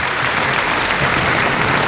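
A match crowd responding to a player with loud, dense, continuous applause and cheering that fills the whole brief moment.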